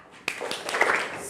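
Schoolchildren in a class start a 'tepuk semangat' clapping chant, a sudden burst of quick, patterned claps from the group with faint voices mixed in.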